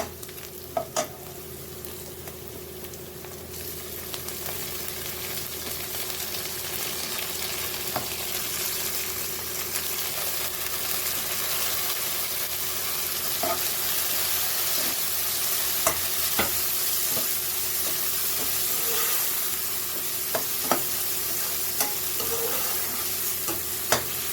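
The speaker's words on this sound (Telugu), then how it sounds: "ఇలా ఫ్రై అయ్యేలాగా ఫ్రై చేసుకోవాలి. పచ్చిమిర్చి కూడా వేగింది" Green chillies frying in a pan for Andhra-style boti fry, giving a steady, soft sizzle with occasional sharp pops and stirring scrapes throughout, and no talking.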